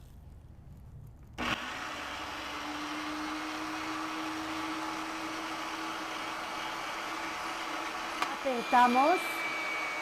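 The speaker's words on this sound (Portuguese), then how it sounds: "Vou ligar a máquina e vou colocar cada vez um pedaço da massa." An electric cookie machine switches on and hums steadily while extruding chilled Moroccan biscuit dough with sesame and coconut, a continuous close motor drone with a few brief rattles near the end and a short spoken word.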